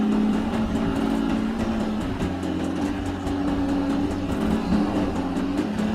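A Mercedes GLE SUV with an overheated transmission strains to move forward, its engine droning steadily with a faint whine, the noise constant and moderately loud throughout, with no talking.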